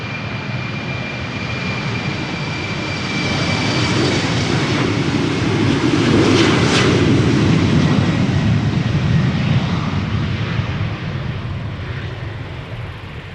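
An eight-year-old KLM Embraer 190 takes off from Amsterdam Schiphol bound for Palma de Mallorca, its jet roar swelling to a loud, close peak midway before easing off while still strong, with no voices.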